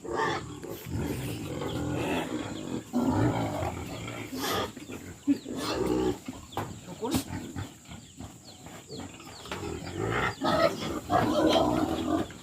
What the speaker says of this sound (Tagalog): Andam na sila mudakop sa baboy.